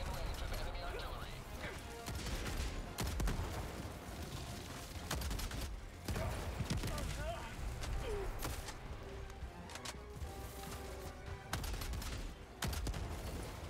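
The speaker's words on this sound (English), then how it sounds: "Where is that artillery coming from?" Enemy artillery barrage in Helldivers 2 on a mined battlefield, heavy repeated blasts and crashes landing through nearly fourteen seconds of dense combat noise, with scattered gunfire and a voice speaking over the chaos.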